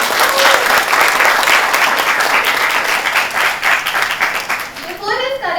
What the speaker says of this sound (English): Now clap for that also, come on.